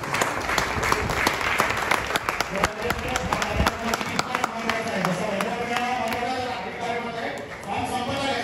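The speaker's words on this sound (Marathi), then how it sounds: "सर्वांनी जोरदार टाळ्या वाजवून गणपतीचं स्वागत करायचं." Applause from a large audience welcoming a Ganesh idol at a community event, a dense wash of clapping that holds steady for several seconds, with voices mixed in underneath.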